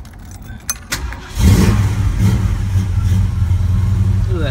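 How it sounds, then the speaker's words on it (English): A 1974 Ford Gran Torino engine cold-starts after a short crank, then settles into a loud, steady idle rumble close by, with key jingles and a brief spoken remark just before it fires. "I'm gonna go ahead and try to start it for you."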